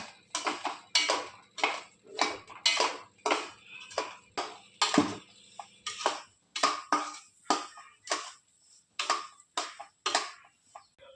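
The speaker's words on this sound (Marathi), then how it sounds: "आता त्यामध्ये रवा भाजून घ्यायचा मीडियम वरती रवा लालसर होईपर्यंत भाजूया" Semolina roasting in ghee in a pan for mango sheera, stirred with a spoon that scrapes and clinks against the metal in a steady rhythm of regular bright strokes, close and clear with no talk.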